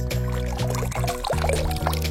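Cool waterfall water splashes and pours steadily as a man washes his face in it, a continuous close, loud rush with no talking.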